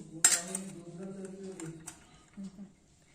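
A stack of a dozen newly bought plates being handled, a sharp clatter at the start followed by a few lighter clinks and knocks, close and fairly quiet, with a voice talking softly underneath.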